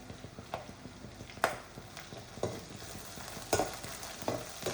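Tomato frying in a pan with garlic, onion, chilli and curry leaves for Kerala egg chammanthi: a steady close sizzle with sharp scrapes of a spoon stirring at irregular moments, and no talking.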